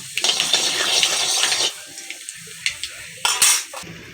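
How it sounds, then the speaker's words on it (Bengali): Nigella seeds and a split dried red chili hit hot oil as a tempering for a chal kumro shak ghonto, giving a bright sizzling burst that settles into softer crackles, with utensil clinks and a second sizzle near the end. "এবার আমি ফোড়নের জন্য দিচ্ছি কালো জিরে, একটা শুকনো লঙ্কাকে আমি এভাবে ফাটিয়ে নিয়েছি"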